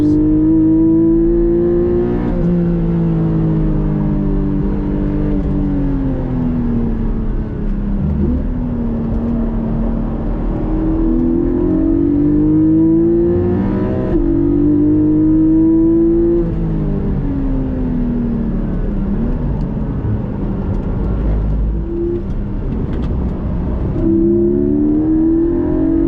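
A 2021 Porsche 718 GTS accelerating on a track, loud in-cabin engine drone climbing in pitch through repeated gear shifts over a long run, passing other cars, no speech.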